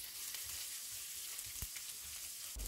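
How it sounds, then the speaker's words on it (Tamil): Chopped onion frying in ghee for a dal and greens kulambu gives a steady, even sizzle with soft bubbling and faint stirring. It is close but gentle, and nobody speaks. "இப்போ வெங்காயம் பொரிஞ்சிடுச்சு"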